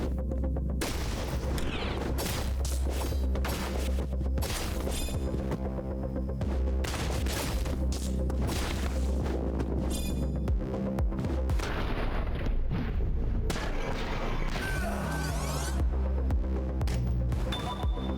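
Dense, continuous video game turret gunfire pounds throughout, loud and close, with rapid repeated booming bursts layered over a heavy throbbing hum and steady mechanical drone.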